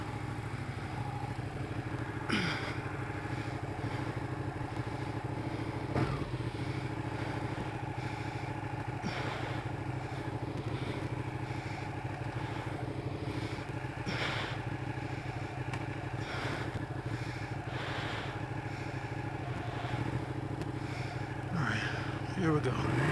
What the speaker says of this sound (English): I'm on the 959 Panagale. Take this one for a spin.